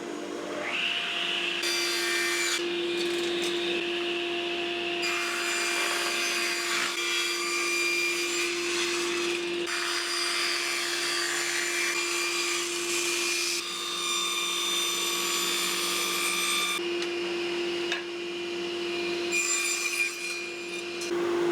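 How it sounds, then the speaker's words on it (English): A power tool rips strips from recycled timber for a bee hive lid frame, making a loud, continuous whining cut that runs nearly unbroken with only brief dips. "First up I've just got to strip some timber off for the frame"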